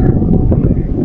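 Strong morning wind buffets an outdoor microphone, producing a loud, continuous low rumble with gusty thumps throughout.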